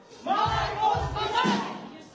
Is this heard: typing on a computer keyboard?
no